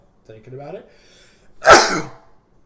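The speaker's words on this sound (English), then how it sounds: "God, I hate sneezing." A single human sneeze bursts out loud and close after a brief muffled vocal lead-in, with short quiet gaps around it.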